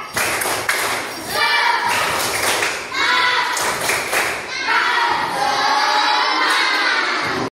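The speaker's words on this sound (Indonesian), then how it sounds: "Anak soleh, ya, tepuk semangat" A class of children doing the 'tepuk semangat' rhythmic clap, with loud patterned clapping bursts mixed with children chanting and shouting together, close and lively.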